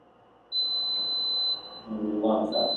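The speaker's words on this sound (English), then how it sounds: "And the alarm sounds." A homemade refrigerator door alarm sounds a steady, piercing high beep for about a second, breaks off briefly, then resumes. A voice talks underneath as the beep returns.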